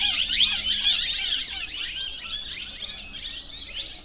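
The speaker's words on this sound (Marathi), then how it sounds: "पोपटांचा आवाज होता मित्रांनो" A flock of parrots gives shrill, overlapping squawks and chatter near the Unhavare hot water spring in Dapoli, a dense, continuous calling with no talk over it.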